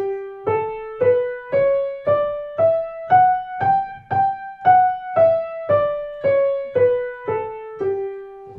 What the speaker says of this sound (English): We're going to G Lydian.